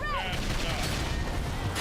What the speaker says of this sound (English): Try toppling them with gunfire.